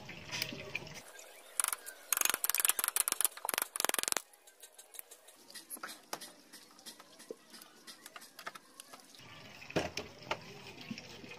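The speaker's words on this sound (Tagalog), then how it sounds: "Tubig yung lumalabas sa loob ng makina." Water spurts and splashes out of a boat engine that sat unused for five months while it is turned over. Irregular bursts of spattering come and go, with loud clusters and quieter stretches, and there is no talk.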